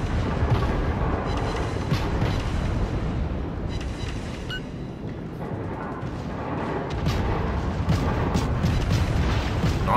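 Dense, continuous booming naval gunfire and explosions in World of Warships, loud and relentless for the whole stretch with crackling bursts layered over heavy rumble.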